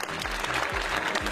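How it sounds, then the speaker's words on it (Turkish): Applause rising through a hall at a Turkish film event, a dense sustained wash of clapping with a faint low murmur underneath. "Alkışlar yükseliyor salonda."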